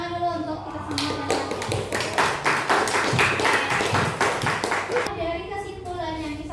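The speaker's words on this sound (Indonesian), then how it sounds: "tepuk tangan dulu untuk kita semua" A school class applauding, a burst of many quick overlapping hand claps that lasts about four seconds. A teacher's voice speaks just before and after it.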